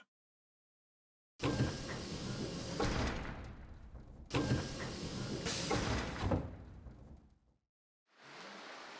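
Door opening in the Resident Evil 0 HD Remaster video game at an industrial water treatment plant: two long, heavy grinding sweeps separated by a pause, then a third starting at the end.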